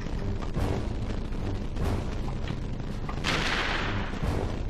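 Missiles blast and rumble around the player on Planet Orxon in the video game Ratchet & Clank, a continuous barrage of booming explosions with sharper bursts standing out, loud and dense throughout.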